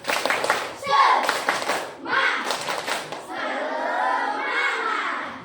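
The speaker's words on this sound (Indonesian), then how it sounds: "kalau masih bersemangat, tepuk semangat" A primary school class performs the rhythmic 'tepuk semangat' spirit clap, bursts of children's hand claps and chanting voices in a classroom, alternating with a sustained vocal stretch near the end.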